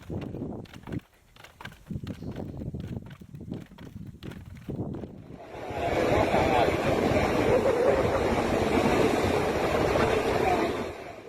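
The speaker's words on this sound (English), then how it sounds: "A powerful tsunami struck a Honua village in Russia, sending massive waves surging inland and sweeping vehicles and debris through the streets." Tsunami waves surge inland through a village in Russia, a loud, continuous roaring wash of water that swells and stays dense, with wind-like rumble and debris noise in a turbulent mix.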